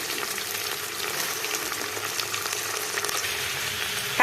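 Potato, tomato and cauliflower fry in oil with bay leaf for veg pulao, a steady close sizzle and crackle that runs throughout at moderate level.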